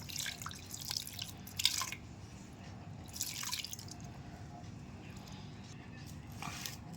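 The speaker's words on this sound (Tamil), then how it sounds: "அந்த தண்ணியை ஊற்றிக்கலாங்க." Water from boiled chana dal is poured into a cooking pot holding almonds and cashews, producing faint, short splashing and dripping bursts at irregular intervals over a low, steady background hum.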